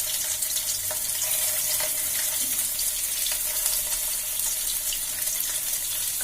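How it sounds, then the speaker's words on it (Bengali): An egg fries in hot oil in a pan, a constant close hiss and sizzle that holds steady throughout with faint crackles and no voices. "তেলটা গরম হয়ে গেছে, ডিমটা 1 পিঠ ভেজে নিচ্ছি।"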